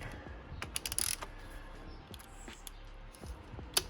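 A ratchet works loose 8mm coil bolts on a Mazdaspeed 3 (Axela MPS) engine, giving faint, scattered metallic clicks and short bursts of ratcheting close by in a quiet space, with no talking.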